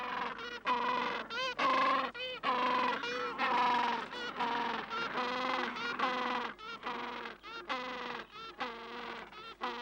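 A Gentoo penguin colony calls continuously on open ground, with many overlapping braying, trumpeting cries rising and falling in rapid, rhythmic bursts, loud and close throughout, with no voices.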